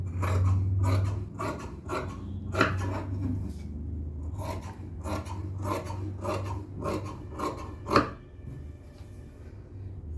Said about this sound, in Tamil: இப்போ நம்ம கட் பண்ணி எடுத்துடலாம்